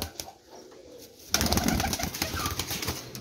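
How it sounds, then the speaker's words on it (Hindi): Pigeons at a loft during a racing-pigeon contest, soft cooing at first, then a louder burst of close bird calls and fluttering activity filling the rest. "कबूतर बड़ा ही किसी का नस्ली कबूतर है"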